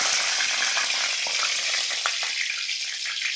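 Hot oil sizzling in a pan on a stove before onion goes in, a dense steady hiss with small crackles throughout, close and fairly loud, no talking.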